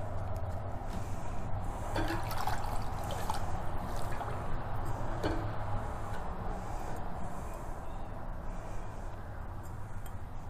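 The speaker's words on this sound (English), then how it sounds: "we're just going to wash away the etch cream and go ahead and remove the vinyl." Water running steadily over a glass, rinsing etching cream off a vinyl-stenciled Dollar Tree wine glass; a constant close splashing wash throughout with no talk.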